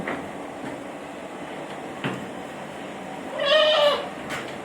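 A goat bleats once, fairly close and loud, in a quiet outdoor setting with a faint steady background hum.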